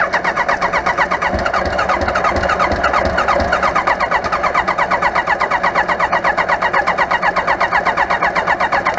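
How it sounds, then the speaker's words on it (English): A 1995 Kawasaki Voyager XII engine cranks without firing, a loud, close, steady and rapid rhythmic churn of the starter that continues unbroken with no catch and no talking. "It's cranking over, but it's not firing."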